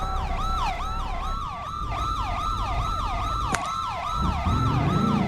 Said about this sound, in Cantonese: 哇，咁多警察車嘅，哇，救護車！